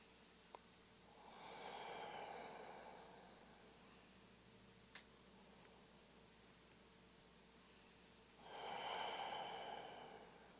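Two long, deep breaths during a yoga practice, each a slow airy hiss of inhale and exhale, separated by a quiet pause, close and soft with no talking.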